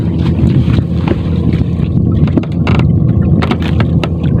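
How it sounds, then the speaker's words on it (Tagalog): Steady low rumble of a shrimp fishing boat engine at sea at night under wind buffeting, with occasional clanks and splashes, loud and close. "Rinig yung makina nila, kumakayod."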